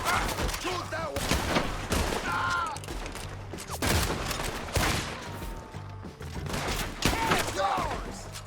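Shootout gunfire in Red Dead Redemption 2, a chaotic fusillade of booming rifle and pistol shots from several directions, some near and loud, others farther off, with voices talking over the battle.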